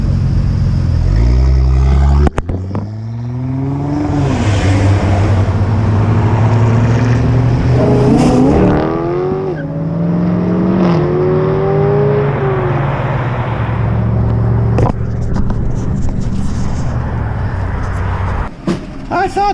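A Corvette Stingray and a full bolt-on Dodge Charger SRT Hellcat race, engines roaring loudly and rising in pitch through repeated gear changes, with a steady drone underneath and brief thumps and clicks along the way.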